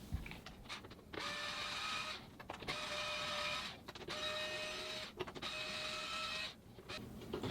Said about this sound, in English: Get your TP25 and we're going to move the 4 screws to remove the fender delete.